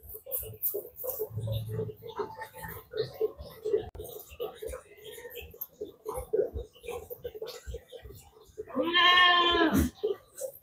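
People talk quietly over scattered background noise, then a goat lets out one loud, wavering bleat near the end.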